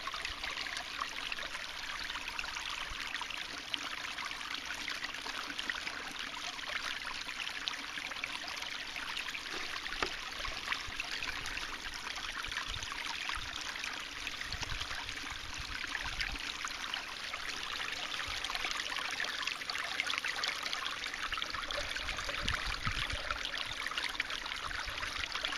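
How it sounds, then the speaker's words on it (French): Water rushes steadily through a steeply tilted gold-panning sluice, a constant hissing, burbling flow with light splashes, close and moderately quiet, with no voices. "j'ai dû vachement incliner mon sluice parce que j'ai pas assez d'eau, donc j'ai dû accélérer le courant"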